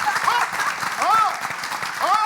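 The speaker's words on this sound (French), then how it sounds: "Mesdames, mesdemoiselles, on vous demande d'applaudir très fort." Loud applause from a theatre audience at a popular theatre in Koudougou, a continuous crowd roar of clapping with rising whistles and shouts, and voices heard throughout.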